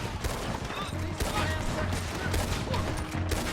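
Sustained gunfire in a Red Dead Redemption 2 shootout, a dense rattle of overlapping shots at steady loudness, with voices talking over the battle.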